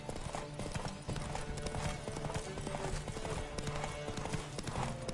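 A horse gallops in The Witcher 3, with steady, rapid hoofbeats close and loud throughout and a faint whinny mixed into the game's ambience.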